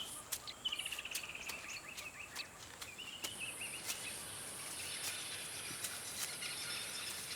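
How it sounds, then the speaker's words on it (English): Faint bird calls chirp intermittently over a quiet outdoor background with a steady high insect-like hiss, at the edge of a city. "this place is full of appetizing birds."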